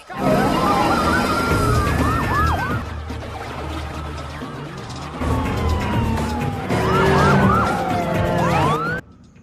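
Police car sirens wail loudly in a film chase scene, rising and falling in repeated sweeps that cut out briefly midway and then return, with traffic noise underneath.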